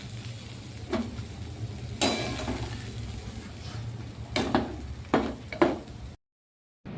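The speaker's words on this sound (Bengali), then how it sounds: "তো এবার হচ্ছিল এটা এর মধ্যে মিশিয়ে দেবো সবজিটা ডালের সাথে" Fried vegetables get stirred into half-cooked boiling dal in a pan, with a steady background bubble and sizzle broken by several scraping spoon strokes and clinks against the metal, close by.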